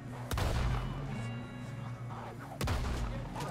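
Shotgun blasts in Red Dead Redemption 2 gameplay: two loud, sharp booming shots about two seconds apart, each with a broad crack and rumbling tail over steady background game noise.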